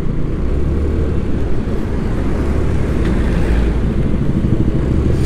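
A Kawasaki ZX-10RR rumbles close and loud in a steady engine roar, mixed with wind noise as the rider moves along a wet road.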